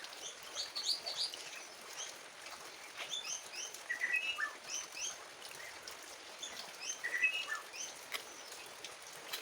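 Small birds chirp and twitter in scattered bursts outdoors during rain, faint and somewhat distant over a soft steady patter.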